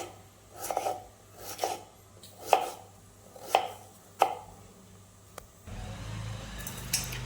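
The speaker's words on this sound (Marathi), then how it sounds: "सगळ्यात पहिल्यांदा मी बटाटे अतिशय पातळ पातळ असे बारीक त्याचे काप करून घेणार आहे गोलाकार" A knife slices potatoes into thin rounds, five distinct crisp chops at a steady, unhurried pace, close and clear, followed by a softer rustle as the cutting stops.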